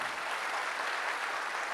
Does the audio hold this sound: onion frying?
no